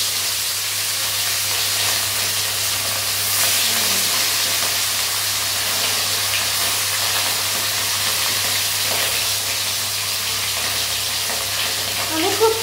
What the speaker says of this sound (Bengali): এখন তেল গরম করে আমি মাছগুলোকে দু পিস করে ভেজে নেব।